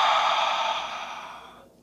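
A single long, breathy exhale during a yoga session, close and fairly loud at first, then slowly fading away over nearly two seconds with no talk.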